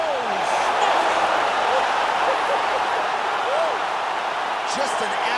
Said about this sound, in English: Crowd is absolutely loving it.